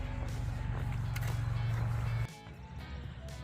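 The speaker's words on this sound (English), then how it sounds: "Lots of cars, the freeway sound." Steady roar of cars on a freeway beside an industrial area, loud and continuous for about two seconds before dropping abruptly to a quieter distant hum.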